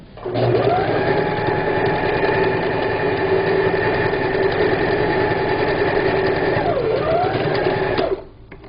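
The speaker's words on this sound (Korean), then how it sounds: "그쪽 부분도 스티치 박음질을 해줍니다" A sewing machine runs steadily, stitching a thick table cover for a low Korean dining table, a continuous close whirring hum that holds for about eight seconds before stopping abruptly.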